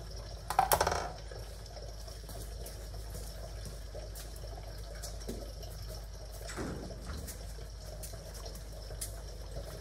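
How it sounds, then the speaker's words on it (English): Engine oil pours out of a 2011 Ford Ranger 2.3L into a drain pan, a brief splashy burst at first, then a steady faint trickle with a few soft drips. "adjust your drain pan accordingly. It likes to come out there a lot at first."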